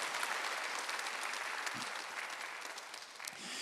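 A church congregation at a Sunday worship service claps together in sustained, dense applause that stays at a fairly even moderate level throughout.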